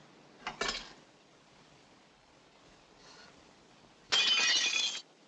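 Glass shatters loudly and close by in a dim room at night, a long bright crash of breaking panes, preceded by a shorter sharp crack and a faint rustle.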